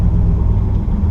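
A turbocharged EFI 460 truck making about 700 wheel horsepower on 92 octane drives along the road, producing a loud, close, continuous low rumble with no voices.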